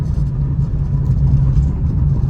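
A car engine rumbles steadily from inside the vehicle as it pulls out and drives off, a low continuous drone with no speech over it.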